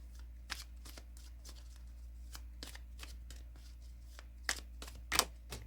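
Tarot cards being shuffled close by, a soft, irregular run of riffles and flicks, quiet overall, with a few sharper card snaps near the end.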